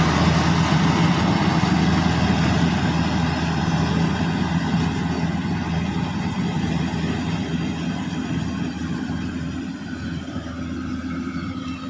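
Kubota DC-105X cabin combine harvester driving through a rice field, a steady, loud low engine drone and rumble that continues throughout with no talk.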